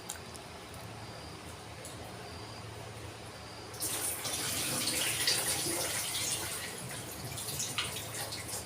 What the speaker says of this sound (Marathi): यांना आता दोन तीन पाण्याने धुवून घेते